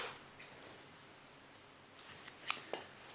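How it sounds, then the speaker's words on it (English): Quiet scissors snipping yarn after crocheting a beanie hat, a few soft cuts followed by a sharper snip close by, over a faint background hush. "then I'll cut this yarn"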